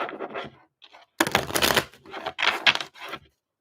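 Tarot cards are shuffled close by in quick riffling, scratchy bursts separated by short pauses, loud and dry, with no talking.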